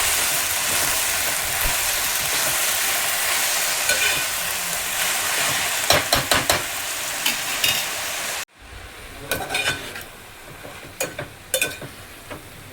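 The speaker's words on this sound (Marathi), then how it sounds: "आता ह्याला परतून घेऊया।" Moringa leaves sauté in a pan with a steady hiss, and spatula scrapes and taps against the metal sound close by. Partway through the sizzle drops to a quieter level, and the stirring strikes continue.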